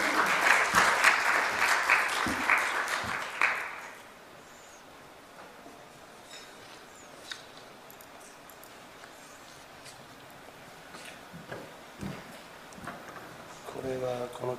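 Audience applause welcoming a presenter at a conference in Seoul, a burst of clapping for about four seconds that then stops, leaving quiet room tone with faint rustles and a voice starting at the end.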